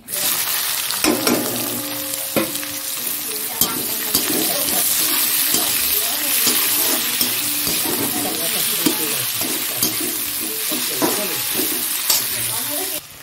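Onion added to hot oil with cumin, bay leaf, dried chilli, cardamom, cinnamon and cloves, a loud steady sizzle and crackle with stirring clatter throughout, close up, and faint running water at times.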